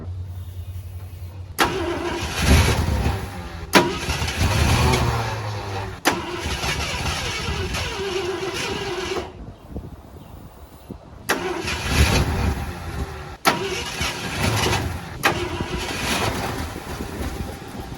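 A long-idle Ford F-100 pickup being started on ether, heard as several bursts of loud, close engine cranking and rough catching, broken by short gaps and sharp clicks between attempts.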